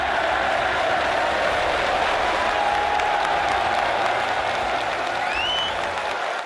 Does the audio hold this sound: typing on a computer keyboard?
no